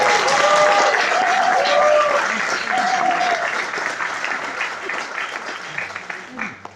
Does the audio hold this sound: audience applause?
yes